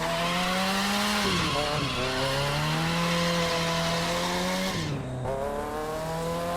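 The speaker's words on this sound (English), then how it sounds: "you can do that to manji as well, or the side-to-side motion that a lot of people like to do while drifting" Engine revving with rising and falling pitch as a car in The Crew 2 racing game drifts side to side in a manji, tires squealing continuously and loudly throughout, with a brief dip around each direction change.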